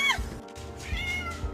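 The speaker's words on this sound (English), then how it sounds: "There goes Kitty." A cat meowing up close, with a couple of short, bright meows separated by brief pauses.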